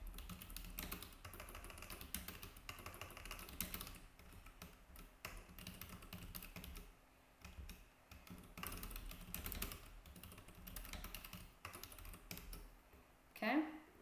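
Someone types code on a computer keyboard: a steady stream of soft, close keystrokes runs throughout the span at low volume, with a slightly louder tap near the end.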